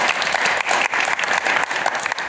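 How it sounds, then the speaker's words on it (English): Steady applause from a crowd, dense clapping that fills the space evenly for a couple of seconds, loud and close. "let's give them a round of applause"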